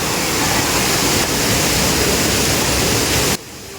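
Durgapadu waterfall, set in forest on the Andhra–Odisha border, pours with a loud, dense and unbroken rush of falling water. Near the end the sound drops off abruptly.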